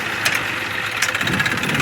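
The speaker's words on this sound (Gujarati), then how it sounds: "ટ્રેક્ટર વર્ક કરી દીધો." A tractor engine idles steadily close by, a continuous mid-pitched rumble with a few brief louder knocks and clatters on top, no talking.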